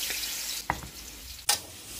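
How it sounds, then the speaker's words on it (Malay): Pounded chili and garlic paste sizzles in hot oil in a wok, a steady frying hiss with two sharp stirring scrapes, close and moderately quiet. "Goreng sekejap sampai naik wangi"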